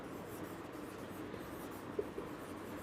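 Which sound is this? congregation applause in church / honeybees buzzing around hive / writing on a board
writing on a board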